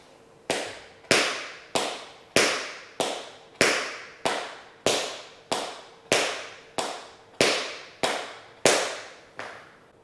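Tap shoes strike a hard floor in a dig-and-spank double sound, about fifteen sharp, even clicks repeated at a steady beat, close and crisp, with no talk.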